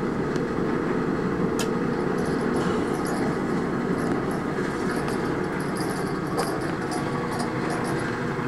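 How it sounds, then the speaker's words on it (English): A check valve on a Weil McLain boiler with a Beckett burner rattles continuously, a dense, fluttering mechanical chatter over a steady hum, with occasional sharper clicks. "That rattling noise you hear, I believe, is that check valve right there."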